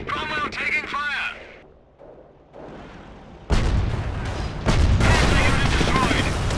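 Gunfire and shell blasts striking around a Cromwell tank in Company of Heroes, a voice calling out first, then loud rolling volleys and booms building up and continuing densely.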